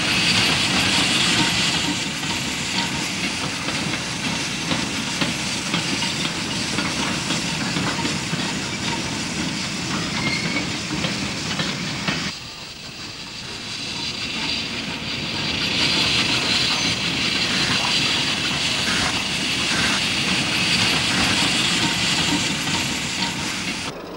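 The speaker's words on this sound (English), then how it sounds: "Number 17 was one of the favourites for passenger workings. Here the Engerth-type Mogul heads north" Spanish narrow gauge Engerth-type Mogul steam locomotive No. 17 heading a passenger working, a loud continuous hissing roar of steam and running gear that dips briefly midway before surging again, no voices.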